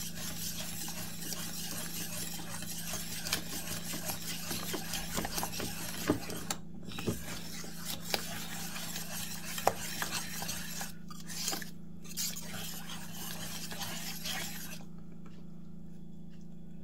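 A whisk stirs a mixture with about 50 grams of cheese in a bowl, a steady close scraping and swishing over a constant low hum, with a few faint clicks and no talking.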